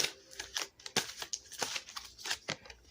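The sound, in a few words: cards being shuffled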